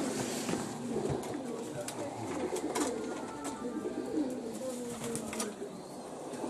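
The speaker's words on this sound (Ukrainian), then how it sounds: "У кімнатах сотні голубів," Hundreds of pigeons crowd the rooms of an apartment, their soft cooing and wing rustles forming a dense, steady murmur throughout, with a news narrator's voice running over it.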